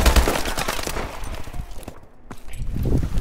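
Full-auto assault rifle fire in Call of Duty Advanced Warfare, a rapid, dense stream of shots rattling close and loud almost throughout, briefly thinning before resuming.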